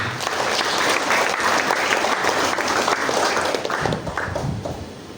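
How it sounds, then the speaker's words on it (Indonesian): A church congregation bursts into loud, sustained applause that holds steady for about five seconds, easing slightly near the end. "supaya tepuk tangan untuk mereka"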